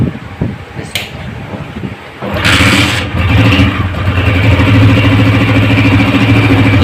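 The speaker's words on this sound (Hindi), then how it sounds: "अभी सबसे पहले हम बाइक को स्टार्ट करेंगे।" Honda CG125 motorbike engine cranked and caught after a brief sputter, then settling into a loud, steady single-cylinder idle up close.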